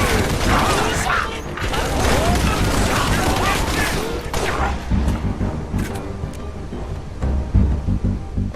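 Gunfire in the Halo: Reach game mission Winter Contingency, dense bursts of weapon fire and mechanical clatter crowding the first half, then thinning to scattered shots, with voices talking.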